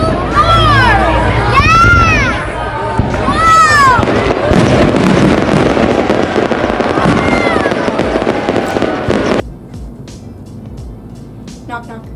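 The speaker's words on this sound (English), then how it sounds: "There were beautiful fireworks and the grand finale was epic." Whistling rockets rise and crackle amid a busy crowd, with loud bursts and rumbling booms throughout before the noise suddenly drops to a quieter hum.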